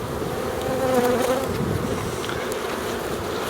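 Honeybees buzz in a dense, steady drone around an opened hive as frames are eased up during an early-season inspection, close and continuous with no voices.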